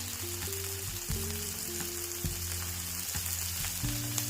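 Cheeseburger patties fry on a hot cooking surface, giving a continuous dense sizzle with scattered small pops and crackles at close range, and no voices.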